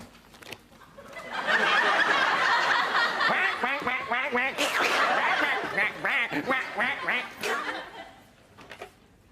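A voice imitates Donald Duck in a sitcom scene, giving a run of quacking, sputtering squawks of a few seconds, loud and close, with chuckling around it.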